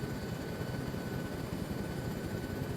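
Helicopters in a military video game set in a Vietnam-era operation, approaching as a low, steady rotor drone that stays faint and distant throughout.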